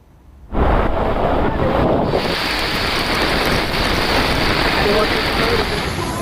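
Cyclone Tauktae's wind and rain hit hard along the Gujarat coast after a quiet start, with a loud, dense roar of gusts and pounding rain that continues unbroken to the end.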